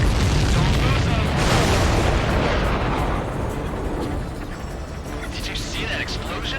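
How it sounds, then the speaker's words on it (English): A large enemy supply ship explodes in the combat flight game Ace Combat 7, a dense roaring blast rumble that slowly fades under continuing game noise and a radio voice. "Did you see that explosion? Looks like that's one of them down."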